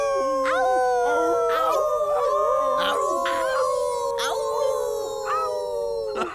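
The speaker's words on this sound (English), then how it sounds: "How did he learn to howl already?" A wolf pup howls in long, gliding, wavering tones, loud and close, layered over several overlapping howls and yips that sound like a small chorus.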